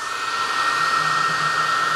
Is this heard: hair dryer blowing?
yes